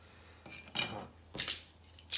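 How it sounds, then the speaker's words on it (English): A craft knife cuts off a small plastic dowel on a steering wheel circuit board, giving a few brief, close scraping clicks and snaps in a quiet room. "So resort to craft knife."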